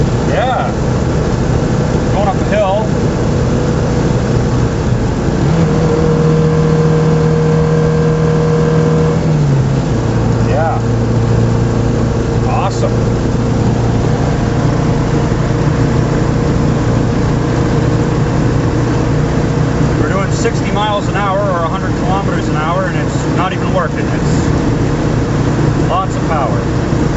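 A 1974 MG Midget with performance upgrades pulls hard uphill, its engine droning loud and steady with a pitch that climbs and then drops as it works under load, while people talk over it now and then.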